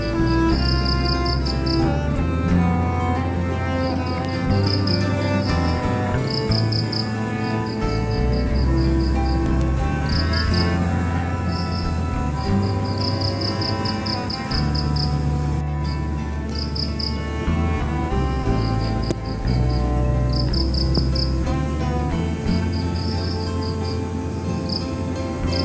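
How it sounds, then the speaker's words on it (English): Crickets chirp in short, high, repeated bursts with brief gaps, standing out over a steady low musical bed throughout. "Crickets, or syrinx are insects that are closely related to grasshoppers"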